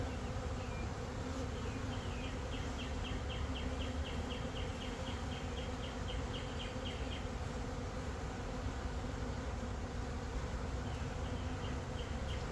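Carniolan honeybees hum densely and continuously at an open hive during an inspection, a close, even drone with faint higher buzzes passing near.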